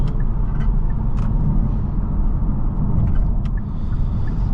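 A 2021 Kia Stinger GT1 AWD engine rumbles steadily and loudly with deep low-end drone, holding a strong throaty tone throughout without clear rises in pitch.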